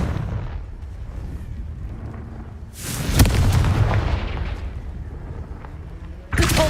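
Confringo spell explosions in the video game Hogwarts Legacy: two sharp booming blasts a few seconds apart, each followed by rumbling debris over steady game background noise.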